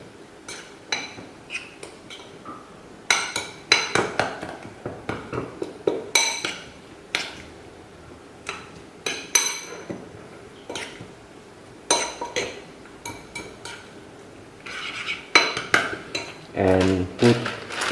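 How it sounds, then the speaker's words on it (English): Kimchi and egg are stirred together in a bowl for a Korean kimchi pancake, giving repeated clinks and scrapes of a utensil against the dish, close and irregular, with no talking. "And mix the kimchi with the egg."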